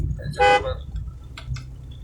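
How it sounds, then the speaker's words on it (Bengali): A single short car horn blast sounds nearby, followed by a couple of faint clicks over a low engine rumble. "একটু হর্ন দেন না"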